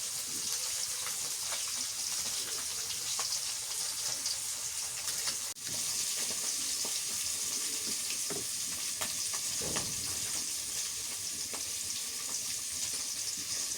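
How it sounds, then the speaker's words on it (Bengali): Pieces of silver carp fry in a pan, producing a steady, moderately loud hiss and sizzle with faint kitchen clatter and a short dip near the middle, without any voices. "মাছগুলো ভাজা হয়ে গেছে, একদম ইলিশ মাছের মতোই হয়েছে ভাজা।"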